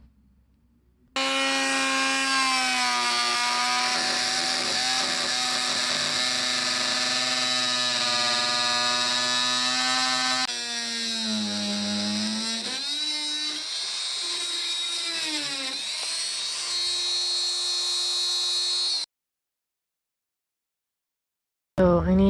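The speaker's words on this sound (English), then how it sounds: "So I'm gonna use my little multi-tool." An oscillating multi-tool cuts into an antique wooden cupboard with a loud, high buzzing whine that shifts pitch as the blade bites, stops, restarts briefly, then cuts out.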